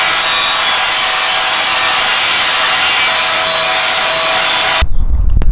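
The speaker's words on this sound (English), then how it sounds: "we're gonna go and grind all the paint off" Paint is ground off a metal shovel with a steady, loud, abrasive rasp that runs without a break and then cuts off abruptly near the end.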